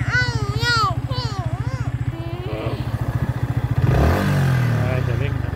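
An electric three-wheeler on a rural home farm gives a close, loud, rhythmically pulsing drone that swells as it accelerates. Voices talk over the motor throughout.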